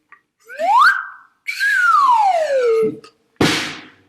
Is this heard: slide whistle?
yes